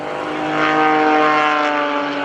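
Stunt airplane at a 2015 lake airshow pulling up, its propeller engine droning loud and steady, with a rising, strained tone as it climbs.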